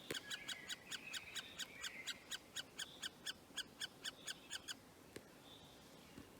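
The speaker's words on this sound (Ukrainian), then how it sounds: "Там є якась пташка. Молоденькі пташенята." A rapid series of high, thin chirps from young birds in a tree hollow repeats in a steady rhythm, then stops, leaving a faint background hiss and one last cheep.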